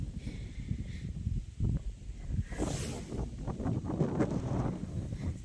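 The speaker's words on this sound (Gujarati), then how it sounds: "અને પવન કેવો આવે" Wind gusts across an open cumin field being irrigated, a steady low rumbling buffet against the microphone that swells around the middle and holds to the end.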